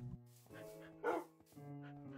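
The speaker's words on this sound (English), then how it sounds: "There's so many dogs around." Dogs bark in the video game Minecraft, giving a few short yips and barks over a low sustained background tone, with one louder bark near the middle.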